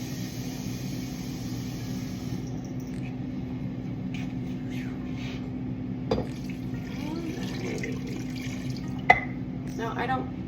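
Water runs into a cooking pot holding chicken pieces seasoned with salt and pepper for homemade chicken noodle soup, a soft pouring and splashing over a steady kitchen hum.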